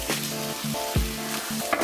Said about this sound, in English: Next up, we're going to throw our bacon into the pan.